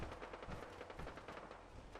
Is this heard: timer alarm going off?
no